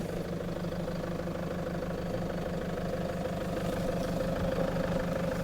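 A vehicle engine idles and rumbles steadily at close range while reversing slowly up a narrow Lake District road, a constant low drone with no talk over it.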